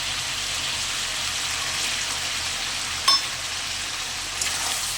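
Lentil dumplings (bori) frying in a pan for a thin curry with stems, potato and tomato, with a steady close sizzle and one or two brief clinks of stirring, and no talk.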